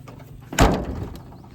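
An old rusted 1983 Chevy truck door with a junk latch, slammed shut once, with a loud close impact and a short metallic rattle trailing after it; no talk.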